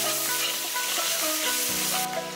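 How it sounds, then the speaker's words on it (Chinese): Beef tongue stir-fried in a wok with pickled chilies and chicken-flavoured bean paste, a steady close sizzle with scraping stir strokes throughout, no talk. "把泡椒倒入锅中，翻炒出酸香味， 鸡鲜豆瓣 一起炒香，"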